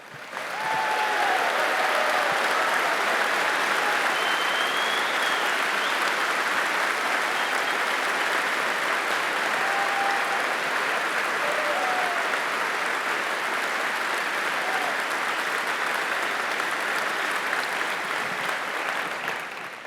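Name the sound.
audience applause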